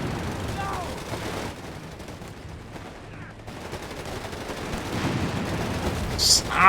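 Mortar and small-arms fire in the Company of Heroes 3 strategy game, a low rumbling battlefield bed of distant gunfire and thuds, moderately loud, swelling toward the end with a sharper impact.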